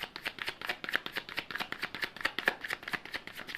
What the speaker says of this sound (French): je vais prendre une petite carte